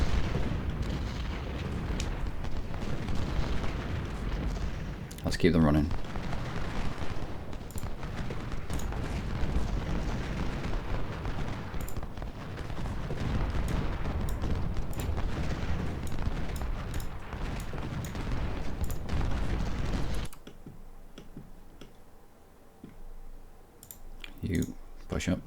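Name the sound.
cannon fire in video game Ultimate General Civil War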